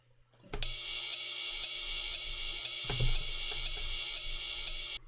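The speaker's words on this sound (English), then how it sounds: "In the second bar, I also introduce these rides. Sound like this." Ride cymbal hits in a dark beat, bright shimmering strokes repeating at an even, steady pulse with a low kick underneath, close and loud with no talking.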